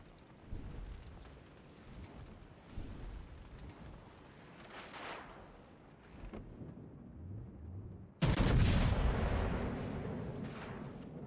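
Montana battleship 16-inch guns in a naval combat game thud in distant booms, then a huge close salvo erupts and roars into a long rumbling tail.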